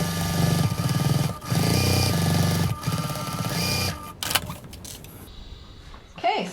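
Close up, a sewing machine stitches a bag pocket in two steady runs of fast rhythmic needle strokes with a short gap between, followed by quieter fabric handling and clicks.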